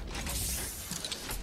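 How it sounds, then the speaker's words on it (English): A weapon reload in a video game gives a short run of mechanical clicks and creaks, close and fairly quiet, heard alone without speech. "Reloading."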